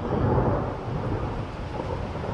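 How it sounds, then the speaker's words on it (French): Thunder outside a chalet during a storm, a loud continuous low rumble rolling throughout with a hiss like rain underneath, heard alone without speech. "Vous entendez le tonnerre?"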